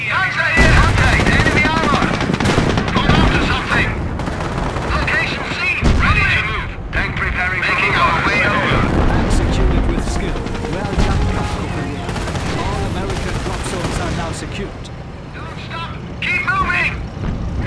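Loud, sustained gunfire rattles through a World War II video game battle during Operation Market Garden, with machine-gun bursts, rifle shots and booming impacts. Shouted voices cut in over the dense, unbroken battle noise.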